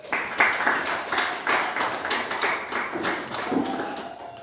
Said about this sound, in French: Donc je vous prie de les applaudir s'il vous plaît.